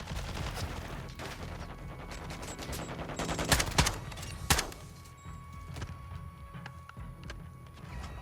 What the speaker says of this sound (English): they're using fast guns now